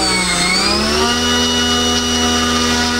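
LotusRC T380 RC boat motor spinning a three-bladed prop, a steady electric whine with stacked harmonics that climbs slightly in pitch early on, then holds a constant high-speed drone.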